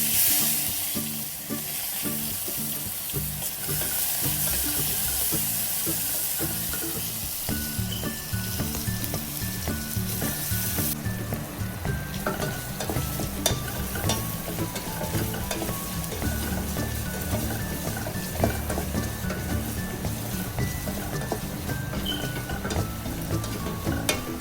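Green chilli and onion frying and being stirred in a pan for a Telangana anapakaya pottu fry, a steady close sizzle with scraping stir strokes running throughout, no voices.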